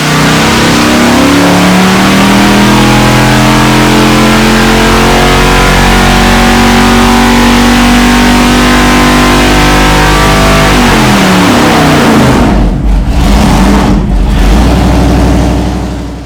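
A 454 Big Block Chevy V8 running on a dyno, roaring loud and close through a long sustained high-rpm pull, then dropping off sharply near the end with a few blips before settling down.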